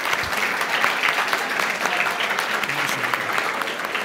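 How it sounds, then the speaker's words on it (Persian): Applause breaks out from the audience at a Razer gaming event after a PS5 prize is awarded, a dense, sustained clapping throughout that stays loud and even with no distinct voices. "مجموعه جی مکس یه تشویق فوق العاده نداره؟"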